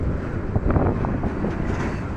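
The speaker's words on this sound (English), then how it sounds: "we are lucky to see a freight train coming here" A freight train rolls past on railway tracks in the Netherlands, its low rumble and faint clatter of wagons heard outdoors with some wind buffeting the microphone.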